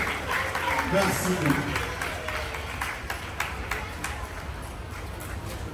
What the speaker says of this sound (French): Acclamez, acclamez, acclamez.